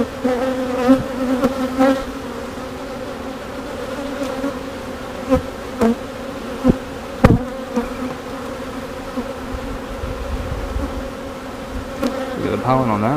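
Honeybees buzzing steadily and close during a beehive inspection, a continuous droning hum with occasional louder passes as individual bees fly near, heard alone without talk.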